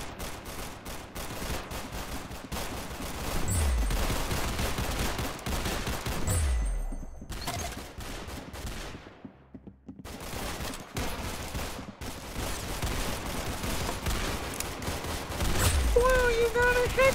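Video game gunfire crackles in dense bursts with a few deep booming hits, loud and continuous, with brief lulls and talk mixed in throughout.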